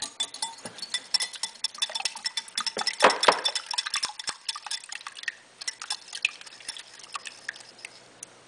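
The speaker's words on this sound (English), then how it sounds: "So now I'm just gonna whisk the eggs a little bit." Eggs are whisked in a bowl with quick, close, clinking metal strokes in a brisk uneven rhythm that loosens and thins toward the end, with no voices.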